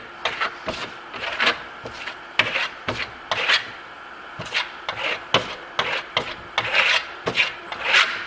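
A trowel scrapes and rubs repeatedly across rock-hard cured marmorino lime plaster, producing gritty rasping strokes in an uneven rhythm, close up and fairly loud, with no talking.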